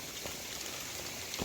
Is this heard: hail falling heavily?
yes